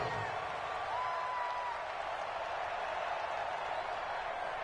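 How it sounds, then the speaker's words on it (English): Steady stadium crowd roar inside the Dome during a football video game, a continuous dense wash of cheering and noise that holds level throughout without breaks. "The crowd here in the Dome making things difficult"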